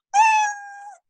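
A single drawn-out cartoon-style cat meow sound effect, clear and close, with a bright start that fades into a long thin tail, heard alone.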